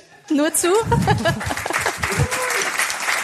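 A lone fan claps in a radio studio during an anniversary broadcast, the short burst of hand claps mixing with talk from the hosts nearby.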